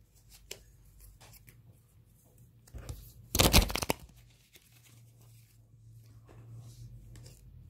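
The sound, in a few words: shuffling tarot cards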